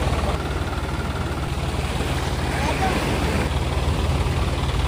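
A boat engine idles steadily at Vettakkada beach in Kappil near Varkala, a close, constant low rumble with broad wash and a faint voice mixed in underneath.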